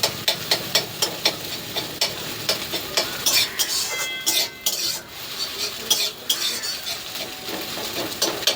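A spatula scrapes and stirs food frying in a pan in a home kitchen during a morning tiffin preparation, rhythmic metallic scrapes and knocks over a steady sizzle, close and loud.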